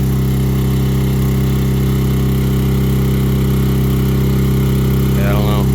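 The hydraulic pump on an Eager Beaver folding-neck trailer, rated 81,120 lbs GVWR, runs slowly to fold the neck, giving a steady, unbroken motorised drone with a few faint higher sounds near the end.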